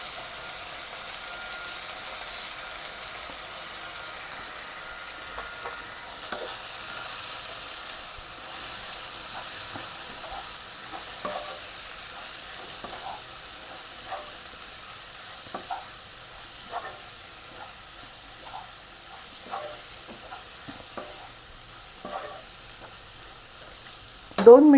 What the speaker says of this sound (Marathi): आता हे जे भिजवलेले कुरमुरे होते ते घालते.